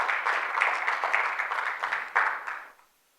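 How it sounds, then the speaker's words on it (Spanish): A church congregation applauding together, dense continuous hand clapping from many people at moderate distance, swelling in small waves for nearly three seconds before quickly fading out. "Denle palmas al Señor con ganas"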